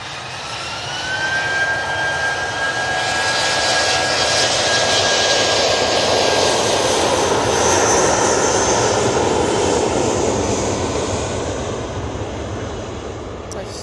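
An Airbus A321neo jet airliner at Manchester Airport passes with a loud, broad engine roar that swells and then slowly fades, with people talking underneath.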